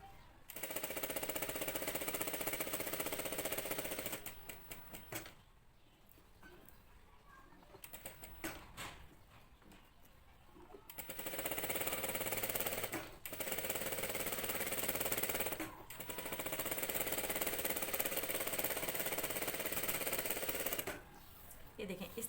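A sewing machine stitches a neckline in long loud rattling runs, broken by quiet pauses where someone speaks over faint background sounds.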